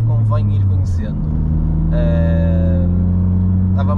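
A Toyota GR Yaris engine hums and rumbles steadily inside the cabin while driving, the tone stepping up partway through, with someone speaking over it throughout.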